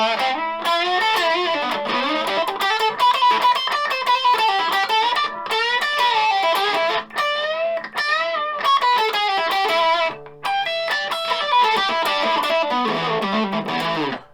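Japanese Les Paul electric guitar played through distortion on the bridge pickup: a continuous, loud stream of crunchy riffs and chords, with short choppy breaks between phrases, heard alone without talking.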